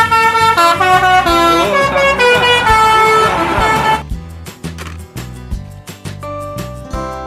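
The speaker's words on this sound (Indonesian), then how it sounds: "City bus. Bus kota." A city bus sounding its horn in loud, sustained tonal blasts over engine noise, followed by a quieter stretch of short, repeated tones and knocks.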